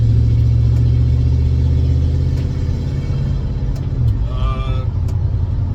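1966 Chevrolet Bel Air wagon on the move, a steady, loud engine rumble from inside the car with a brief shift in pitch near the end, and a voice talking over it.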